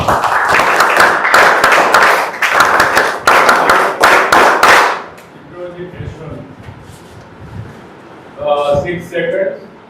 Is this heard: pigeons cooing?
no